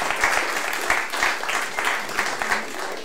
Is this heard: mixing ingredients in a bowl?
no